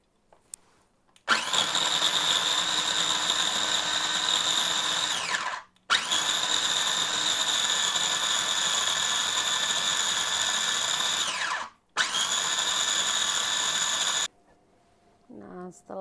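A kitchen grinder whirs loudly as it pulverizes candlenuts for an Indonesian yellow spice paste, running in three steady bursts separated by brief stops, with no talk over it.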